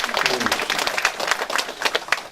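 Applause greets a guest at a National Assembly member's constituency report meeting in Geumam 2-dong, Jeonju, as many hands clap in a dense, lively burst that carries on steadily, with a voice faintly audible underneath.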